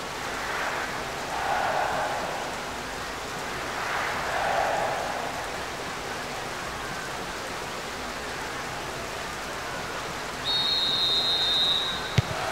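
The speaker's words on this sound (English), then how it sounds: "Rain starting to fall here." Rain in the football video game PES 2024 during a Hellas Verona vs Inter Serie A match, a steady soft hiss of falling rain with faint crowd swells rising twice and a brief whistle near the end.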